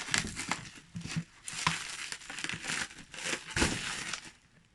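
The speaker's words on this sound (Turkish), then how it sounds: "O güzel pat pat poşete sarmışlar." Bubble wrap packaging crinkles and crackles in bursts, close by, with no talking.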